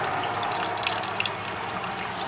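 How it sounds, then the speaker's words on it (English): Running tap water pours steadily over rice being rinsed in a kitchen, a loud continuous close gush with light splashing and no talking. "Are you rinsing it again? Yeah. 3 times. So the rice is dirty."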